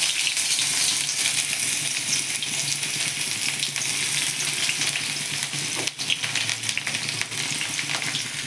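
Chopped onion fries in white oil in a wok, a steady dense hiss of sizzling that fills the whole stretch, close and fairly loud, with a brief clatter of stirring near the end.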